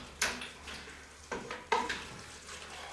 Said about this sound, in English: Once again, stirring that around. Butter will melt down.